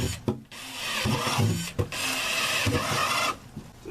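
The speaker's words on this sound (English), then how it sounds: "So drill several holes in the bottom." A power drill boring holes through the plastic bottom of a sump pit basin for a crawl space: short bursts of grinding, whirring drilling with brief pauses between them, close and fairly loud.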